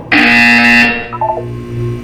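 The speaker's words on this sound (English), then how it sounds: "When you hear the buzzer, look down at the floor." A loud, harsh electronic buzzer from the Portal 2 video game blares for just under a second, then gives way to a short flutter of lower tones and a steady hum.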